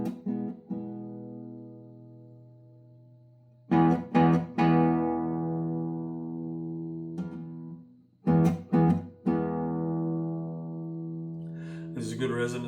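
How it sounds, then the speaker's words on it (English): A lattice-braced classical guitar is played in three plucked chords or bass-note groups, each struck sharply then ringing out long with rich sustained overtones, close and clear without talking. "that's the sound of the guitar"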